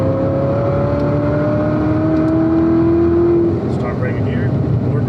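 A 2019 Corvette ZR1 accelerating on the Spring Mountain race track, a loud, steady engine drone with rising pitch as throttle builds, heard close from inside the car, with a voice talking over it.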